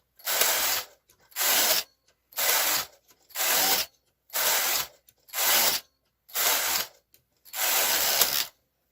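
A hand-cranked sock knitting machine works through rows in eight regular bursts of rasping, ratcheting mechanical noise, each about half a second to a second long, separated by short silences.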